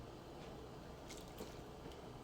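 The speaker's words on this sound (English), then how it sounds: "You add the water to the gari too." Water poured onto gari, the granular cassava meal, in a kitchen while making Liberian gari yorkor, giving a steady, close wet splashing and soaking hiss with small drips, with no talk over it.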